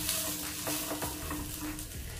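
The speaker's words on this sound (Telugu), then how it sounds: "ఈ కొబ్బరి ముక్కలు వేసుకున్న తర్వాత ఒక 2 నిమిషాల వరకు వేయించుకుంటే సరిపోతుంది." Coconut pieces and curry leaves fry in a pan over a low flame, giving a steady sizzle broken by a few quick scrapes of a stirring spoon.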